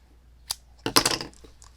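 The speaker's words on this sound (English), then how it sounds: "cut your yarn" Scissors snip through crochet yarn after a chain stitch on a granny square triangle shawl: a sharp single click, then a short burst of crisp cutting noise, close and fairly loud in a quiet room.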